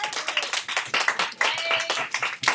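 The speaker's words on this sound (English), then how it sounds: "Clap if you agree so far." A group of students in a classroom clapping together, a brief burst of quick, uneven hand claps close by, lasting a couple of seconds.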